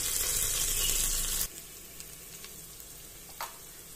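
Ginger garlic paste with coriander leaves frying on low heat in a mutton thalicha pan, a loud close sizzle that drops off abruptly partway through, leaving a faint hiss with a few light stirring taps.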